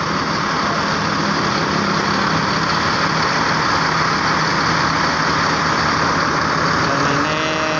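A vehicle engine idles with a loud, steady, continuous drone that holds unchanged from start to finish, with no other sounds over it.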